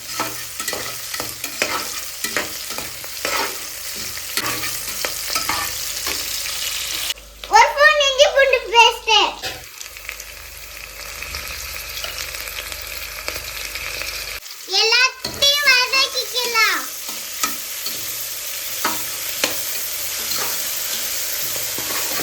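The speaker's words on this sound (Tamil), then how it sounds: "எல்லாத்தையும் நல்லா வதக்கி விட்டுக்கலாம்." Onions sauté in ghee in a pan for coconut biryani, a steady close sizzle stirred now and then, with people talking over it and a voice in the brief quieter gaps.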